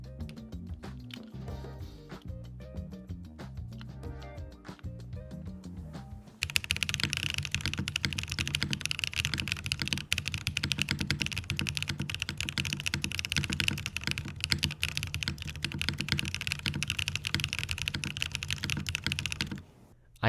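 Typing on a custom QK keyboard with GMK Shoko keycaps and a magnetic accent piece: a few scattered keystrokes, then a fast continuous stream of dull, thunky, slightly hollow clacks, close up and steady.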